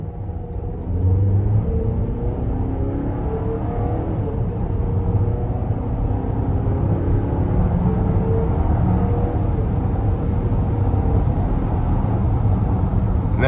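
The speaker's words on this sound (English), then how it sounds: "I gave it very little throttle there" A 2024 GMC Acadia Denali SUV accelerates gently, heard from inside the cabin, its engine a steady low droning rumble that rises slightly in pitch, with road noise underneath and no talking.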